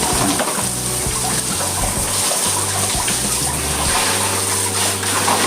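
Water runs and splashes steadily while piglets are bathed on a farm, a dense continuous rush with pouring and gushing texture that stays loud throughout, with no voices over it.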